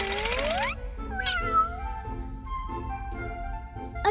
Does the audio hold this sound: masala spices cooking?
no